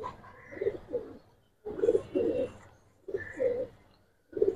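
Giribaz pigeons give soft, throaty cooing calls, three or four rounded phrases with pauses between them, close by and moderately loud.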